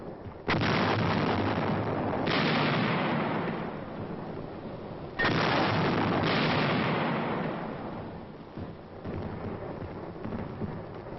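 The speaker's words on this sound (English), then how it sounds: "Tanks coordinate their fire in the assault. Surface and air bursts clear the way for the riflemen." Tank fire and surface and air shell bursts boom during a wartime assault, with two heavy blasts that roll out into long rumbling decays and lighter distant thumps in between.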